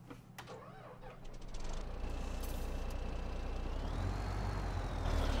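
A Farming Simulator 17 model 377 truck engine starts up and settles into a steady, close, loud running drone, its pitch rising partway through, with no talk over it.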